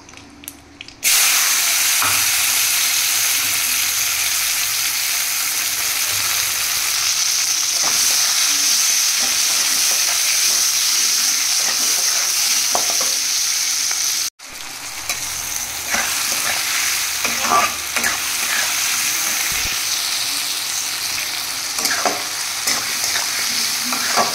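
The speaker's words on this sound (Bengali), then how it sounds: "মেটেগুলো দিয়ে দিয়েছি, ভালো করে কষা হোক।" Goat liver and goat meat fry with tomatoes and fat in a pan, giving a loud, steady close-up sizzle with stirring scrapes throughout and a brief break midway, with no talking.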